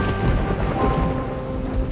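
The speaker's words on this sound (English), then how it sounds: "The rain is so heavy, Lulu." Heavy rain pours steadily while low thunder rumbles underneath, with faint musical tones in the background.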